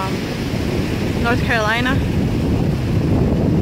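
Ocean surf rolls in at Wrightsville Beach, North Carolina, a constant roar of waves mixed with gusty wind buffeting the microphone while someone speaks briefly over it.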